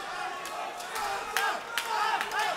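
Boxing crowd at a boxing night event cheering on the red-corner fighter: a steady roar of many voices with swelling shouts and whistles that rise and fall, and a commentator's voice running underneath.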